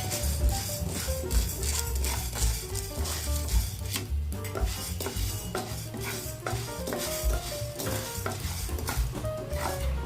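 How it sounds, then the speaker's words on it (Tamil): Urad dal dry-roasted in a hot kadai, a dense continuous scraping and rattling of lentils stirred against the metal pan, steady and close, with a gentle sizzle underneath. "கடாய் சூடானதும் உளுந்தம்பருப்பை போட்டு நல்லா வறுக்கணும்."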